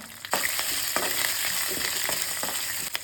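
Cumin seeds and a green chili fry in hot oil in a pan for a variety rice dish, giving a steady, dense sizzle with soft crackles and a few stirring scrapes, close and continuous with no talking.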